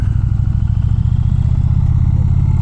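A big motorcycle's engine chugs close and loud, a low, even rumble with a steady pulsing beat, heard alone with no talking.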